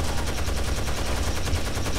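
Dense, continuous automatic gunfire from the shooter Rainbow Six Vegas 2, a loud sustained burst of rapid shots with no pauses and no talking.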